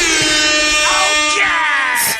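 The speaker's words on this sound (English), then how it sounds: "Can we put an air horn real quick?" A loud, blaring air horn sound effect with stacked harmonic tones, sustained for about two seconds before cutting off.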